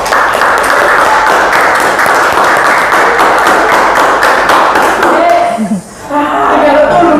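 A classroom of students claps together in a dense, loud, sustained burst of applause that breaks off abruptly near the end.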